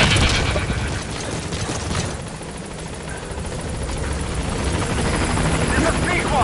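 The support helicopter Pequod in Metal Gear Solid V thunders in with a dense rotor roar, loud and close, swelling toward the end over scattered battle noise.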